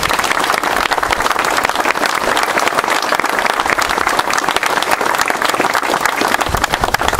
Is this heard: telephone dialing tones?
no